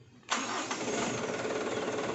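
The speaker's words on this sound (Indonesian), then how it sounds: "Kemudian kita nyalakan mesin." A truck engine is started: after a brief cranking moment it catches abruptly and settles into a loud, steady running rumble close by, with no talk over it.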